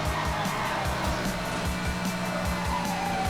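A race car in the Formula Fog video game overtakes using nitrous, its engine a loud, continuous, pulsing high-revving drone that stays close throughout.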